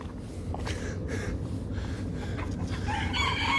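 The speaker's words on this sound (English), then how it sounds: "again lots of white chickens" White chickens, hens among roosters, cluck and crow in an old park and former zoo in Lisbon, with overlapping calls at moderate distance over steady outdoor background noise.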